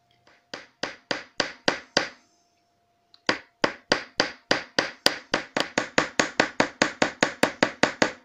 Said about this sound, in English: Okay, we're going to hammer.